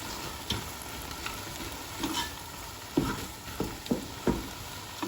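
Frozen sweet corn sizzles steadily in a frying pan, with a continuous crackling hiss broken by several soft stirring knocks and scrapes. The sound is close and moderately quiet, and no one speaks.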